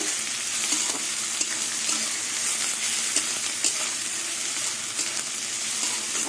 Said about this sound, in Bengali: পেঁয়াজ বাটা দিয়ে কিছুক্ষণ আবার ভাজা ভাজা করে নেব